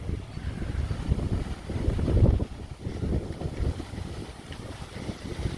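Steady wind buffets the microphone at Sombrero Beach on Marathon Key, Florida, a low rumbling roar that swells and eases over several seconds, with faint surf beneath and no voices.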